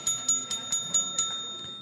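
A bell rings on a sports radio show, struck about six times in a quick, even rhythm with a bright, ringing tone, each hit fading briefly before the next, close and clear.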